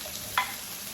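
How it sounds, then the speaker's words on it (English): Smoked sausage sizzling in a pan for jambalaya, a steady soft frying hiss with one brief louder crackle partway through. "I'm going to go ahead and start adding my smoked sausage"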